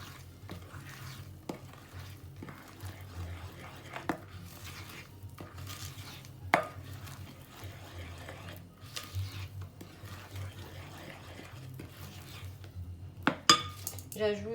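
A chocolate cake batter is stirred in a bowl, with repeated utensil scrapes and clinks against the sides at an uneven rhythm, close and moderately loud, over a steady low background hum.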